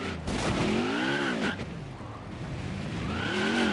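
A NASCAR Xfinity race car doing a burnout at Dover Motor Speedway, with a loud continuous engine roar and squealing tires whose pitch rises and falls throughout.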